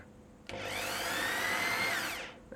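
A Makita M4301 jigsaw with orbital action switched off cuts for about two seconds, a close, even whirring buzz that starts sharply, holds steady and stops.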